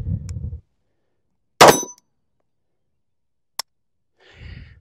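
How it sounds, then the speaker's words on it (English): Metallic clacks of a pistol being handled during a dry-fire trigger-control drill as a round is chambered and the magazine removed: a low rattle, one loud sharp clack, a brief tick, then a softer rattle, each separated by silence. "You chamber one round, remove the mag, put it back out."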